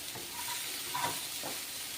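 Leafy greens (shak) frying in a pan over low gas heat: a soft, steady hiss with a few faint scraping strokes of stirring, quiet and close, no voices.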